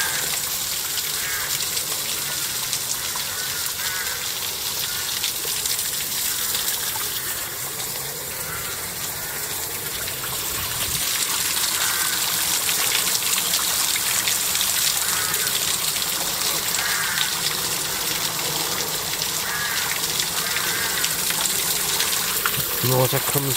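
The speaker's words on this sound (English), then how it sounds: "The water comes down, goes down, and it comes actually out over here. And goes back into the river." Water pours continuously down from a height and flows back into a river in Hollywell, a steady broadband gush that swells louder partway through and runs unbroken.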